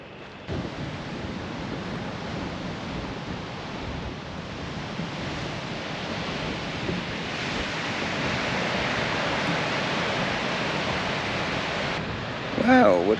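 Waves wash onto a small, nearly deserted beach in a little bay at Robe on the Limestone Coast, a steady broad roar of surf mixed with wind buffeting, swelling slightly toward the end.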